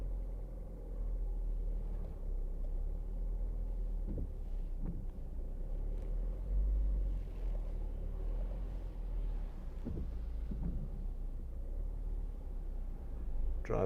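A 2014 Ford Focus creeping backwards under Active Park Assist gives a steady, low engine and road rumble with a few faint knocks, continuous and without any voices.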